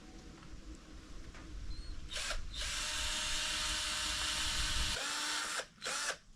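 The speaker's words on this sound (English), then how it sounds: "Now I'm gonna pre-drill and hopefully avoid that cracks" A power drill bores pilot holes in wood for a porch wall, whirring in a sustained high burst that stops briefly and then starts again, close and loud.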